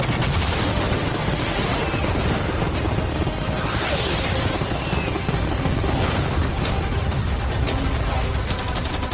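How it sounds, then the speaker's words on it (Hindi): Cannons, fireworks, arrows and catapults all fired at once produce a dense, continuous barrage of loud bangs and crackling blasts, steady and heavy from start to finish. "मैं चाहता हूँ कि तुम कैनन्स, फायरवर्क्स, एरोज, कैटapults सब कुछ एक साथ फायर करो।"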